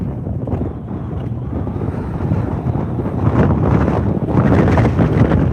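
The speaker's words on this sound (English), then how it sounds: "as you can hear, it's pretty windy out here" Strong, steady wind buffets the microphone with low rumbling gusts, growing louder toward the end, with faint water and boat noise beneath, on Lake Lanier while bass fishing.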